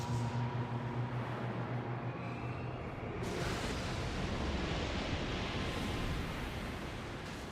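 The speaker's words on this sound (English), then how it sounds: "That's such a weird explosion. Like, it's such a slow one." Slow, rolling explosion wave from a boss attack in Elden Ring Nightreign, a broad continuous roar that swells sharply about three seconds in and stays loud and dense to the end.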